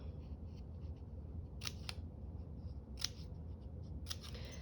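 Scissors snipping small relief cuts around a curve in paper for a spring craft journal, with a few short, crisp snips spaced apart over a steady low background hum.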